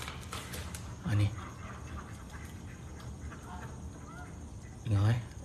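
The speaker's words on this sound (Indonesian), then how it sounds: "Dengar, eh. Ini bunyi angsa." Two loud low calls from a goose or duck stand out, one near the start and one near the end, over a steady background hiss on a clear night at a Malaysian hospital. Quiet talk runs through the gaps.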